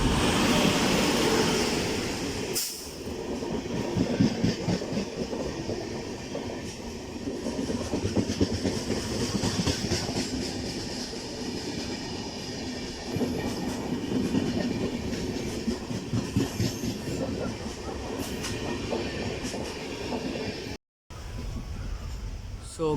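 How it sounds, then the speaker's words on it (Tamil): An express train thunders past close by on the opposite track at Kuzhithurai railway station, its wheels clattering in a steady rhythm over the rails, loud and sustained until a brief cut near the end. "ஆப்போசிட்லேருந்து ஒரு ட்ரெயின் வருது"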